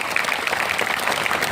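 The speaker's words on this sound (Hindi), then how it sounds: "इनके लिए जोरदार तालियां।" An audience applauds to welcome teachers at a Mahaparinirvan Diwas commemoration for B. R. Ambedkar, with dense, continuous clapping close and loud throughout.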